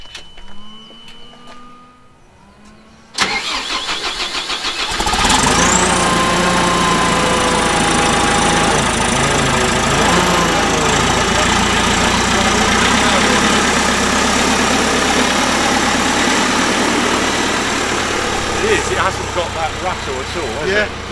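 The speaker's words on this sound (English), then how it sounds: "it actually is just naturally quieter engine than a diesel engine" A JCB hydrogen combustion engine starts up and settles into a steady, smooth idle with a faint high whine above it, running continuously with some voices talking over it.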